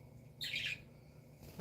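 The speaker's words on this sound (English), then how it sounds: "actually Rocket you hear chirping, but the Blueberry was the one squawking." A single short, bright bird call, a quick chirp rising over a quiet room, followed by a faint click near the end.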